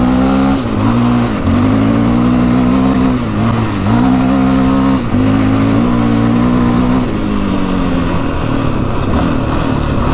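A 700cc quad engine revs hard while riding, loud and close, its throaty drone rising and dipping through several throttle blips before settling into a steady roar.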